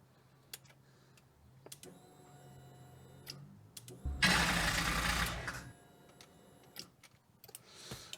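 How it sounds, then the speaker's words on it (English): A starter motor cranks a 1UZ V8 fitted in a Ford Focus, a loud, harsh burst of about a second and a half that rises out of quiet ticking and then stops abruptly. "Oh no, my starter's not very happy."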